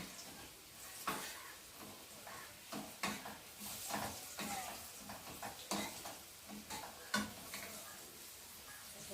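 Pumpkin pieces fry in a hot pan of oil, a steady sizzle broken by repeated scraping stirs and brief clinks of a utensil against the pan, close and moderately loud with no talking.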